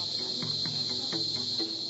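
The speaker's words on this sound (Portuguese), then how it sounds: "E tudo isso embalado ao som de cigarras." Cicadas at the Amazon museum in Manaus, a steady high-pitched buzzing drone that fills the whole clip, with a few faint low thumps and rustles underneath.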